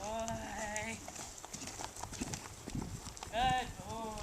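A horse on a long line clip-clops with a high-stepping carriage-horse gait, a run of close hoof beats broken by two bright whinny-like tones while people talk nearby.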